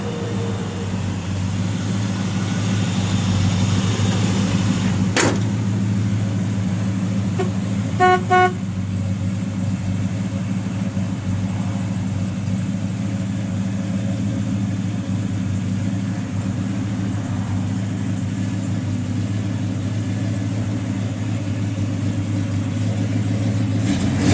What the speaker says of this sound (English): Good sounding car.